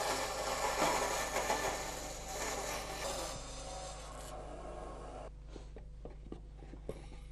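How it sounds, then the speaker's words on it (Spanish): A hand file rasps around the edge of a spruce violin top plate clamped in a vise, a close, continuous scraping rub of strokes that fades out toward the end, leaving a few faint taps. "Ramón repasa con la lima todo el contorno de la tapa del violín"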